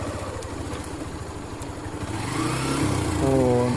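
A motorcycle labours across a broken wooden plank bridge on a ride from Majuli to Sivasagar. Its engine chugs low and rough, then strains louder and higher toward the end.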